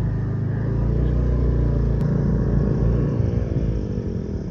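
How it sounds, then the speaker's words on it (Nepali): A motorbike engine strains up a steep hill road, its droning, throbbing note loud and steady throughout at close range, with no talk. "ल बाइकले त तान्यो"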